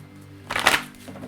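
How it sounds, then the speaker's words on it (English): A tarot card deck being shuffled, a single quick riffling burst of papery card flutter near the microphone, brief and soft against a quiet room hum. "the deck doesn't want to shuffle anymore"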